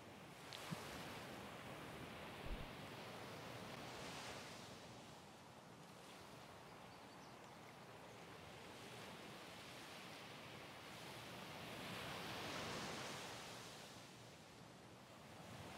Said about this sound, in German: Irgendwas habe ich gehört, oder das ist scheiß Meeresrauschen.